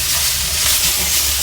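A loud, steady sizzle and scrape of onion stuffing with chilli powder and salt being stirred in a hot pan for egg puffs, close and continuous without talk.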